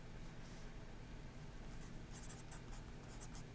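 Pen or pencil scratches across paper while a math problem is worked out, a faint, continuous scratching with brief quiet strokes and no talking.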